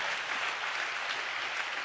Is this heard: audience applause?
yes